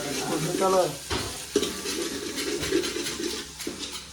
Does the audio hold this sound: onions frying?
yes